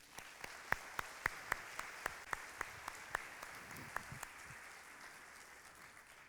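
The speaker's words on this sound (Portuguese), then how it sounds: "aplaude o Senhor." A church congregation claps in praise, but only a handful of distinct sharp claps ring out at an uneven pace and fade toward the end, quiet and somewhat distant in a reverberant room.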